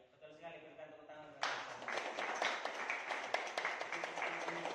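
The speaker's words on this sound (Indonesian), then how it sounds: "Berikan tepuk tangan." Classroom applause breaks out partway through: a group of students clapping steadily and fairly close, following a moment of talk and continuing to the end.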